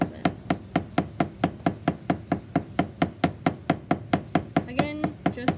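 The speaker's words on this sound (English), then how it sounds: "And then I'm going to hammer this side a little bit." A hammer strikes a wire rivet about twenty times in a quick, even rhythm, each blow a sharp, close metallic tap, with a brief ringing scrape near the end and no talking.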